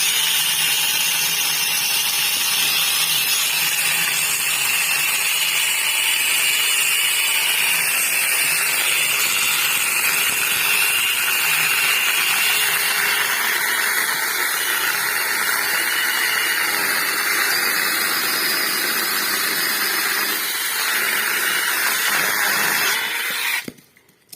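An Ibell cordless chainsaw cuts through a tree, a steady, loud motor whine with rough cutting noise running continuously for most of the time before stopping abruptly at the end.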